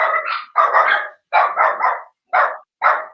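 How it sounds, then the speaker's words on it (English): Dogs barking at home, several loud, close barks in rapid bursts with brief pauses between them, no talk over them. "Hold on, my dogs are going nuts."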